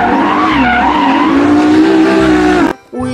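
A loud, close toy race car sound effect plays a long wavering tire squeal with engine tone for nearly three seconds, then cuts off sharply before a brief softer tail.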